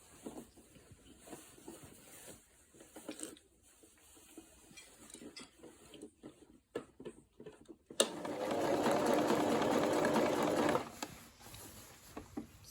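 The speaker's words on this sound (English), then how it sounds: "Now I want to tidy the neckline area with bias." Sewing machine stitching bias binding onto a circle dress neckline, faint handling clicks and rustles first, then a steady close whirring run of stitching for about three seconds before stopping.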